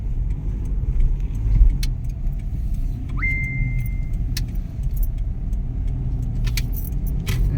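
A car pulls out onto a highway with a steady road and engine rumble close by, broken by a few sharp clicks and rattles and a brief rising electronic beep in the middle.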